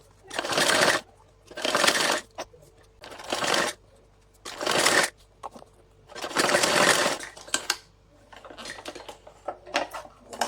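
Sewing machine stitching fabric onto a salwar, running in loud bursts of about a second each, separated by short pauses and a few quick clicks.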